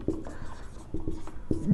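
A pen scratches and taps while notes are written by hand, a few short close strokes at an uneven rhythm.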